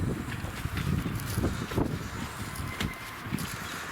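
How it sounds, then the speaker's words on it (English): Cold wind blows across an outdoor garden plot in December, buffeting loudly with gusty rumbles and occasional thumps, no voices. "it's kind of cold now and windy"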